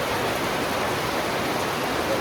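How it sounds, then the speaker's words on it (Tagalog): Heavy tropical downpour in the town centre of Catbalogan, Philippines, a steady, dense wash of rain hissing evenly across the whole moment with no breaks or voices. "Grabe po ang lakas ng ulan."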